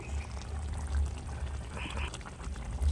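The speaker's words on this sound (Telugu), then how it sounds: "ఇంకా వాటర్ యాడ్ చేసుకుని మనకు కావాల్సినంత చూద్దామేనండి" Water pours into a pot of crab curry, a continuous rushing, splashing pour over a low background rumble, close and fairly loud throughout.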